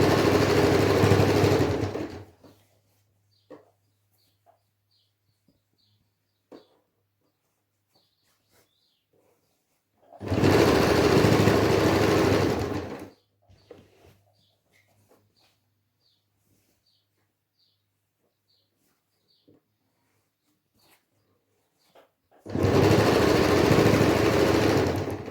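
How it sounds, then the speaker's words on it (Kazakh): A sewing machine joins four fabric pieces in one seam, running in three loud, steady bursts of a few seconds each, separated by long near-silent pauses with faint clicks. "мен 4 тігісті қатар, 4 матаны қатар біріктіріп тігіп отырмын"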